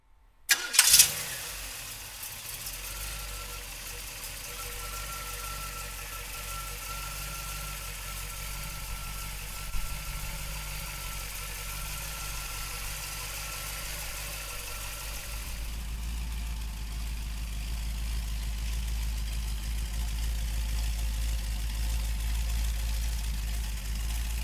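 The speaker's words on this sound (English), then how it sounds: "we're gonna fire this big block up" A 1932 Ford Hi Boy's big block V8 cranks and fires with a sharp burst, then settles into a steady, loud idle that deepens and grows heavier partway through, rumbling close by with no talk.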